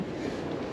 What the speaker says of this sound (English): You can hear the wind from outside too.